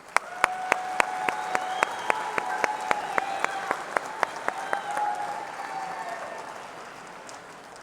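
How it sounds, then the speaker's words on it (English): Audience at a 2016 Oregon State Grange convention session applauds steadily, with sharp individual claps standing out over a continuous crowd wash for several seconds, fading slightly near the end. "Let's congratulate our members and thank our sponsors with a round of applause."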